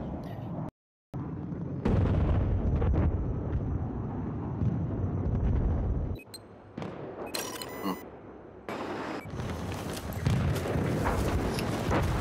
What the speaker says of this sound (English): Sucks about the mortars.